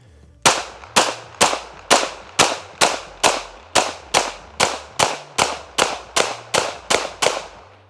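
A handgun is fired while the shooter moves backward, giving a long, even series of about fifteen sharp, loud shots spaced roughly half a second apart.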